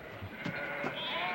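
Goats bleating, two short wavering calls close together over a soft background hum, with no talking.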